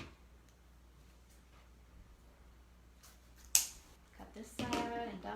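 Scissors give one sharp snip through ribbon during bow making, followed by rustling ribbon handling and faint background sounds, close by and fairly quiet.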